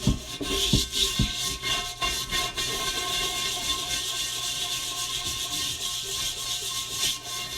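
A plastic brush scrubbing rust off a cast iron pan in quick, rasping strokes, close and fairly quiet, with a faint steady hum underneath.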